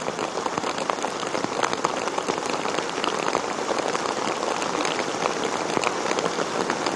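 Steady, dense monsoon rain pours down hard in Virar, a continuous heavy hiss with individual drops spattering throughout, no voices.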